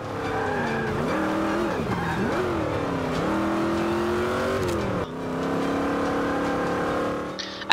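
A Rolls-Royce in Forza 5 cruising at high speed, a smooth steady engine drone rising and falling with gear changes and light tire noise, continuous and close.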